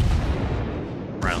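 Naval guns fire from the ship Phoenix in a warship video game, a loud, deep, close artillery boom that rumbles and decays, followed by a brief sharper crack.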